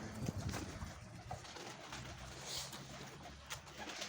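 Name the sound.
pigeon cooing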